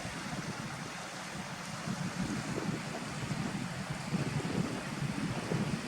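Running water from a stream in Harthope Valley near Langleeford Farm, a steady, fairly close rushing and gurgling that holds an even level throughout, with a little wind buffeting the microphone.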